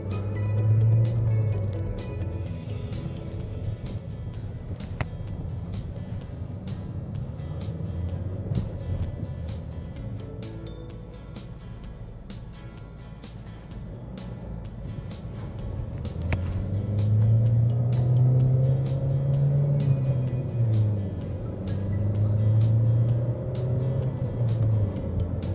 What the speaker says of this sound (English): you can hear some tire noise in here